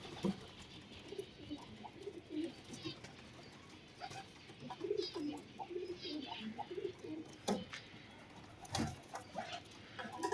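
Red-eyed laughing doves, known as Yakrim pigeons, coo softly on a rooftop, with repeated low, rolling calls and faint chirps over quiet background noise.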